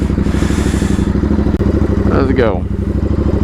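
A custom Royal Enfield motorcycle idles close by with a deep, even, thumping beat, then gives a brief rev before settling back to its steady chug. A voice speaks briefly over the engine.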